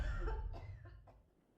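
A single person coughs into their hand, one sharp burst followed by a couple of fainter coughs that trail off, close and alone.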